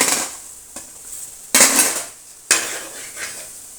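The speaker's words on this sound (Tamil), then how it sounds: "இந்த இஞ்சி பூண்டை அதில் அப்படியே சுற்றி சுற்றி நம்ம கிளறிக்கணும்" A metal spoon clanks and scrapes in a pan as ginger-garlic paste is stirred with chili powder and pepper for pepper chicken: three sharp, close strikes with a faint scraping wash between them and no voices.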